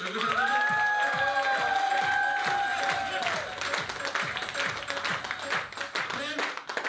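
Audience applause at a gathering in Goa, dense sustained clapping from a crowd heard continuously with a voice speaking over it at the start.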